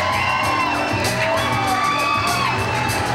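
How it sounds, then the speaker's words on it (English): Wedding guests at a reception clap and cheer as the groom's mother is escorted in, a steady loud crowd roar with whoops and yells throughout. "A big round of applause."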